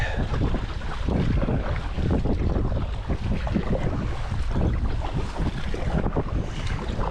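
Strong gusty wind roars across the microphone over open water, with waves slapping and the hull of a NuCanoe Flint fishing kayak rushing through the chop.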